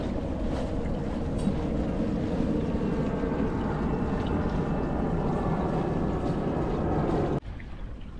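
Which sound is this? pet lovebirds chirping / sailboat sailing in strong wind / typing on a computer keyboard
sailboat sailing in strong wind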